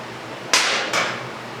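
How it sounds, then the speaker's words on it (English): Two sharp metallic knocks a fraction of a second apart, close and fairly loud, from a tool working the rear axle nut on a 2007 Suzuki V-Strom 650 motorcycle during chain and sprocket replacement. "so we're going to take our axle nut off there"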